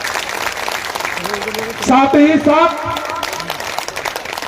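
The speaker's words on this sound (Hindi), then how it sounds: "मैं पूरी सदन के तरफ से जोरदार तालियों से अभिनंदन करता हूं" Clapping from an audience at a festival event in India, a steady wash of applause running under someone speaking Hindi who keeps talking through it.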